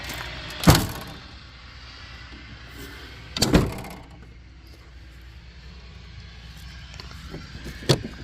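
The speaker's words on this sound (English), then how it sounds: "every time I open this glass, it clanks and bangs." Rear liftgate glass of a 2017 Chevrolet Suburban or Tahoe giving three sharp clanking bangs several seconds apart, close by, with quiet between them.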